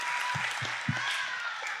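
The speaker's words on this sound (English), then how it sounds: "come on, round of applause for that" Church congregation in Charlotte applauding during a Father's Day service, a short burst of hissy crowd clapping with a few low thumps and voice fragments mixed in.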